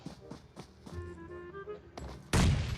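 Several muffled gunshots pop in quick succession in the video game PUBG Mobile, followed by a low tone and then a loud close blast near the end.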